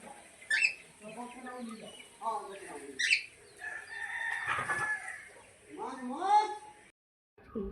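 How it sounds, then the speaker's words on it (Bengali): Cockatiels give squawky, whistling chirps in short bursts with quiet gaps between, some calls overlapping, fairly soft and close. "এখন ককটেল পাখি বসছে সবাই"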